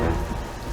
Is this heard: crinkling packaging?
no